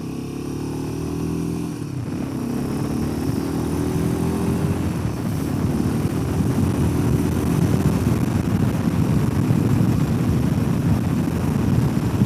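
A Royal Enfield Himalayan 450 motorcycle engine runs steadily while riding through the gears, a loud continuous drone with wind rush that rises after a brief dip as it pulls under power.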